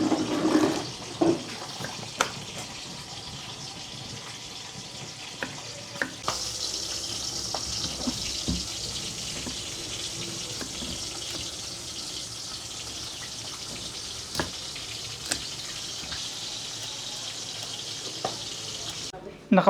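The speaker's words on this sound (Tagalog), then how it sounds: "Matilamasik po talaga itong bangus prituhin." Milkfish (bangus) fries and splatters in hot oil, a steady close sizzle with scattered sharp pops running throughout.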